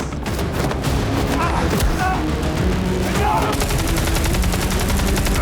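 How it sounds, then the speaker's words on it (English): Gunfire from the Halo TV episode as a gun empties its whole magazine, loud rapid bursts of shots with booms and thuds over a dense, busy battle mix. "You just shooting, like, unloading all the bullets. The whole clip."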